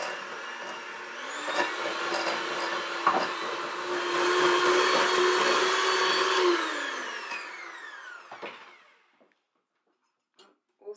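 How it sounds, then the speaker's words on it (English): An electric hand whisk creams butter and sugar for a gluten-free Christmas pudding, a steady close motor whine that rises in pitch, then winds down and stops, followed by a few small clatters. "Now I'm going to start with my hand whisk."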